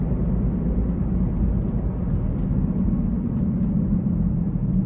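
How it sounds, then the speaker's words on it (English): A 2017 BMW X5 xDrive35i with a 3.0-litre turbocharged inline-six and 8-speed automatic pulls hard onto an interstate, heard from inside as a steady, loud, low engine and road rumble. "I'm gonna put my foot into it and just see how it gets up to speed as we get on the interstate here"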